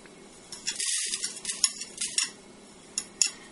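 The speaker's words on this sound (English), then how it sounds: "We're just toasting to bring all the spices together." Whole cloves, cinnamon stick pieces and coriander seed dry-toasting in a pan, with a utensil scraping and clinking against the metal in short, irregular bursts and brief pauses, close and moderately loud.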